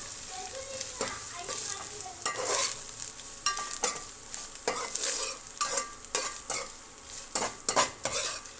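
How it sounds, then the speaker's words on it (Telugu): Paneer frying and being stirred in a pan, with a steady sizzle under repeated scraping and clinking of a utensil against the pan, close and fairly quiet. "పన్నీర్ ఇలా డార్క్గానే ఫ్రై అవ్వాలి లైట్గా కాదు"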